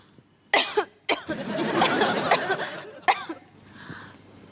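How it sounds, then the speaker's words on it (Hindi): Several sharp, harsh coughs close up, a burst of rough coughing in the middle, then a quieter breathy sound at the end. "ये खांसी तो जा ही नहीं रही।"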